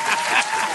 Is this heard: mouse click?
no